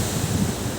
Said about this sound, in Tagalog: At may gulong din pati ang dagat